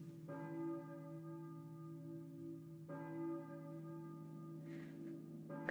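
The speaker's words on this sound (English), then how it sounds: "I hear a church bell." A church bell tolls in the video game Silent Hill, two resonant strikes with long ringing decay, fairly quiet and otherwise isolated, a brief faint noise near the end.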